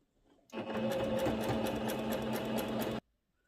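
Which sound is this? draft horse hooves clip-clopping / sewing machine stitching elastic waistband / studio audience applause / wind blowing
sewing machine stitching elastic waistband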